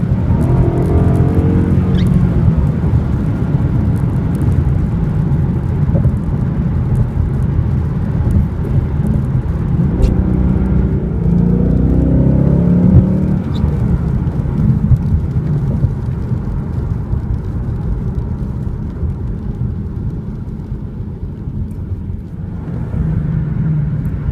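A Ford Mustang GT drives on wet roads, giving a continuous low engine and road rumble with a steady wash of tire noise throughout, fairly loud and close.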